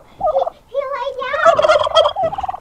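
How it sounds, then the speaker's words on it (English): Turkeys gobble loudly and close in a barn where a camera stand is set up, a few rapid warbling bursts in quick succession. "The turkeys go nuts with the camera stand sometimes."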